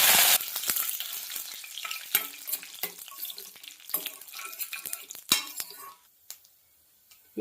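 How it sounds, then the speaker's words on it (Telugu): Tempering seeds, dry chillies and curry leaves sizzle in hot oil with a bright crackling hiss, scattered pops and a few clinks of a utensil against the pan, fading quieter toward the end. "ఆయిల్ అయితే వేడైందండి. తాలింపు గింజలు అయితే యాడ్ చేస్తున్నాను."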